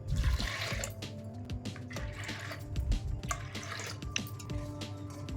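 Water pours from a cup into soaked moong dal in a pot, a close, continuous splashing and gurgling with a few drips, heard alone.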